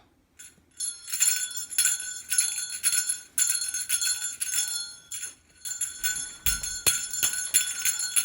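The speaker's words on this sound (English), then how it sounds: "Now I will only ring the bell." A small bell rings repeatedly in quick, irregular jingling bursts, bright and close, with brief pauses between shakes.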